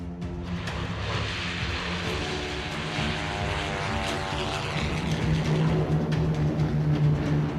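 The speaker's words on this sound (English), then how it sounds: "3 columns of Luftwaffe aircraft attack from a more southerly route, bound for London." WWII Luftwaffe propeller aircraft drone steadily overhead, a continuous engine hum holding at moderate level throughout.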